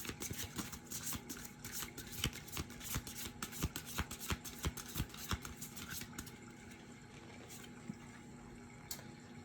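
Oracle cards being shuffled by hand in a quiet room, a steady run of soft riffling slaps and brisk papery flicks that thin out toward the end.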